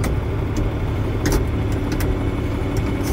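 Steady mid-range engine rumble from a tractor used as a silo-filling blower tractor and for cutting hay in two-wheel drive, running continuously and fairly close with a few faint knocks and clicks on top.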